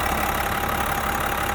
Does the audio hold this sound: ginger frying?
no